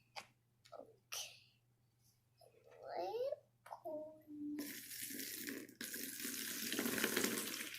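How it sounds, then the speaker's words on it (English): Water is poured during children's sea foam play, a rushing splash that starts partway through and runs steadily to the end, after a child's chatter. "Pouring."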